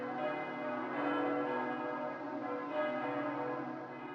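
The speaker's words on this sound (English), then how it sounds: "I pressed it without a second thought, and the bell started ringing, blaring the sound across the whole map." A bell in a video game rings across the whole map, giving a sustained metallic, church-like toll with rich lingering overtones that swell and fade, faint and unaccompanied by talk.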